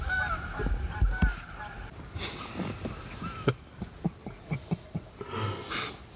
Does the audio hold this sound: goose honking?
yes